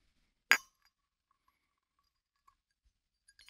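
Glass light bulbs touch together in a quiet ASMR setting, giving one sharp, bright clink followed by a few faint, tiny ticks against near silence.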